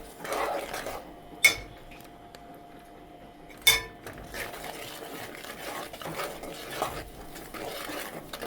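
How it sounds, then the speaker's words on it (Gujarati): A spoon stirs and scrapes pickle in a pan off the heat, with soft continuous scraping broken by two sharp metallic clinks against the pan, heard close up with no talking. "ગેસ બંધ કરી દેવાનું. મિક્સ કરતું જ રહેવાનું સખત."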